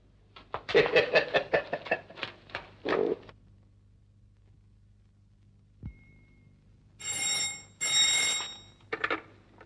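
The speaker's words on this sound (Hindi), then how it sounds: "कब से अलार्म चिल्ला रहा है?" An old alarm clock in a 1952 film scene rings in rapid, rattling bursts, first a long run, then two shorter bursts after a pause with a brief thud, in an otherwise quiet room.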